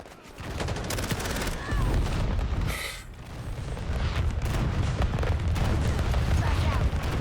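An artillery strike in Call of Duty: Modern Warfare beta lands right at the spawn as a dense barrage of booming explosions and gunfire. It rolls on for several seconds, with a short lull in the middle and voices talking over it.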